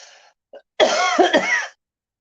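A short throat-clearing sound followed by a harsh, rasping cough burst, close to the microphone, then silence.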